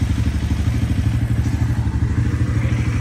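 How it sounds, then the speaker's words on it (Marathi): An NS 400D motorcycle being ridden, its engine giving a steady, loud, low throbbing rumble with a fast even pulse that holds throughout, close to the recording. "तर बघू शकता आता सूरज गाडी चालवतो NS 400D."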